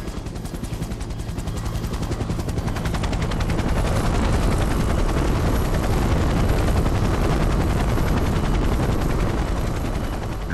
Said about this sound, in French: Le Super Puma va embarquer Mona et son chien et les pilotes vont simuler un cas d'urgence